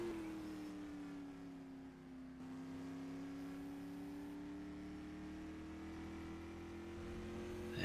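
A supermodified race car runs its warm-up lap at a time trial, its engine a steady, fairly distant drone that sags slightly in pitch and then climbs again as it circles the track.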